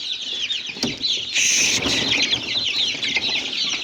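A group of Baykuş chicks about 33 to 35 days old cheep and cluck in a steady chatter, with a brief flutter of wings partway through, close and moderately loud.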